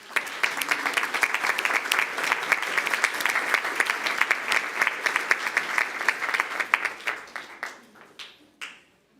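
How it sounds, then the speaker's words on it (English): School board meeting audience applauding as Fine Arts students enter, a dense, steady wash of many hands clapping that thins into a few scattered claps and fades out near the end. "How about we give them a round of applause as they walk into the room?"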